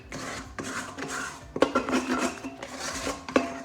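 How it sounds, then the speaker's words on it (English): A scraper rasps around the inside of a mixing bowl, pulling out bagel dough in several short scraping strokes with a few clinks, close and fairly quiet. "Always remember to scrape your bowl out."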